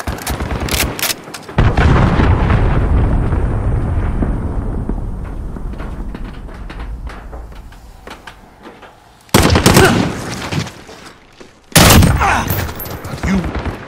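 Heavy blasts and rolling gunfire in a hardcore-difficulty military video game with VTOL aircraft, where an enemy cruise missile strikes: a loud opening impact, a long roar that slowly fades, then two more sharp, close bursts.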